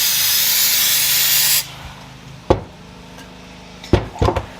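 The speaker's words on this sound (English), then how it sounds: "Let's give this just kind of a general spray down. Get any of the loose stuff off." Spray cleaner hissing steadily onto disassembled VW sandrail parts for about a second and a half, then stopping, followed by a few sharp knocks and clatters of handled parts in a quiet garage.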